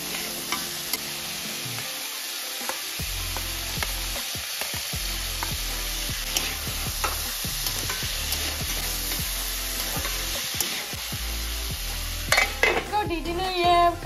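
Potato sabzi frying in a pan at home, with steady oily sizzling and repeated scrapes and clinks of a spoon stirring against the metal, close and continuous with no talking.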